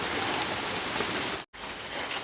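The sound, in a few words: heavy rain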